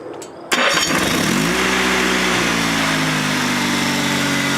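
A freshly rebuilt Honda engine on a tractor cranks with a brief sputtering burst, catches, and settles into a steady, even idle that hums on without a break.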